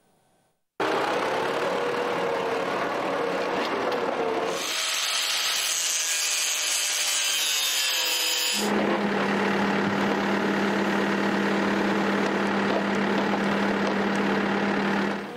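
Fortification construction on the Zhytomyr border, with workers labouring by hand and with heavy machinery: a continuous loud grinding and whining machine noise that shifts in pitch and texture twice, steady throughout with no voices.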